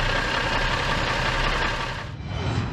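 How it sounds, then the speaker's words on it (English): Infiniti G35 coupe V6 engine idling in neutral with a rough, diesel-like clatter, a steady close mechanical rumble that dips briefly before picking back up. "This thing sounds like a freaking diesel when it's in neutral."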